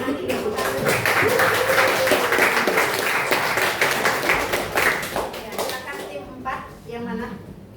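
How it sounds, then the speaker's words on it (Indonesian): An audience at an academic coaching session claps together in a sustained, dense round of applause that fades out toward the end, close and clear. "Kita kasih semangat dulu dengan tepuk tangan di belakang."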